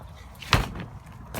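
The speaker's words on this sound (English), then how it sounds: "Shut the door." A polytunnel door on an allotment is pulled shut in stormy March weather, giving a single dull thud midway through against wind noise, with a faint rattle near the end.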